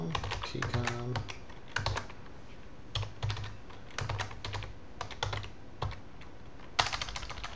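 Someone types on a computer keyboard while entering commands for a networking lab, with irregular bursts of crisp key clicks separated by short pauses, close and clear with no talking.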